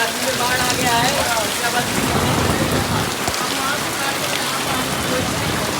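Loud, steady downpour of heavy rain drumming on surfaces, with floodwater rushing beneath like a river in Kashi (Varanasi), India; faint voices may be buried in the noise.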